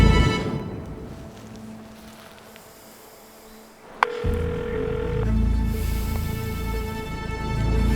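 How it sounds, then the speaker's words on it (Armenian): A telephone call rings out through the handset in a drama series, heard as a steady, repeating electronic ringing tone. It starts after a quieter, noisy stretch and carries on to the end, with no voices. "Հա, զանգը գնում, հա։"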